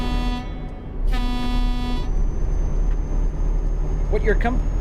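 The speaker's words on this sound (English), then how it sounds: "Does the honk work? Yes." A truck horn honks twice in a driving game, each blast a steady tone about a second long, over a constant engine rumble; a brief higher squeal follows near the end.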